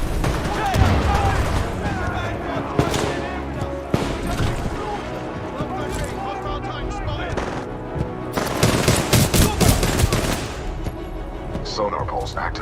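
Supporting fire in Titanfall 2 erupts as heavy automatic gunfire, loud rattling bursts and booming impacts in dense waves, with a synthetic voice speaking under the barrage.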